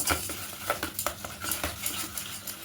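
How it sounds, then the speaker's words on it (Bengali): Spoon scraping and clinking against a bowl while sugar and dal are mixed together, a quick irregular series of light taps and scrapes, close and fairly soft. "চিনি আর ডালটাকে দিয়ে খুব ভালো করে মাখিয়ে নেব চামচে করে প্রথম মাখাবো"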